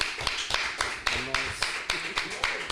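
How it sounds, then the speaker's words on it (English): A small group claps in a round of applause, the sharp hand claps coming in a quick, fairly rhythmic pattern close by, with a voice briefly speaking over them. "just round of applause for each and everybody here"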